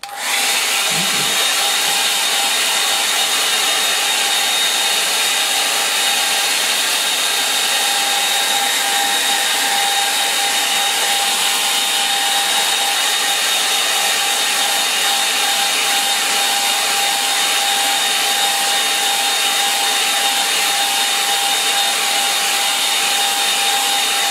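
A hair dryer blowing on a painting to dry the paint gives a constant loud whooshing roar with a steady whine, running unbroken for over twenty seconds close to the microphone, with no voices.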